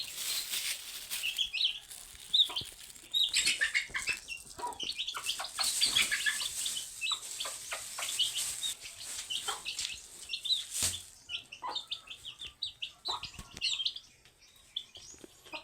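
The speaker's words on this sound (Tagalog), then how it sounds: "Lima na lang yung sisiw." Chicks and chickens clucking and peeping close by, with constant overlapping chirps and clucks and some wing flutters in a rural yard.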